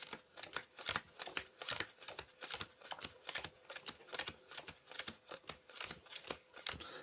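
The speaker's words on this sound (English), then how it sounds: "Deal the cards into 2 piles." Playing cards dealt one by one into two piles on a card mat, a steady run of sharp, close snapping slaps at a quick, even rhythm with no voices.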